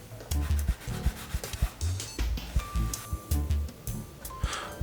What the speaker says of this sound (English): I've grabbed some laser cut acrylic pieces and I gave it some sanding